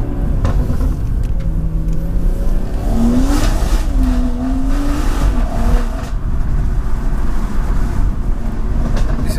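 A tuned 420 bhp BMW M240i running a JB4 revs hard while driving, its engine note sweeping up and down through the gears over a constant loud road and wind roar.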